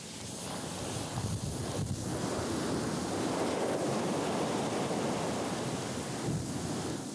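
Ocean surf washing against a shore where lava from Kīlauea flows into the sea, a continuous broadband roar of waves with wind rumble, steady and fairly loud with no voices.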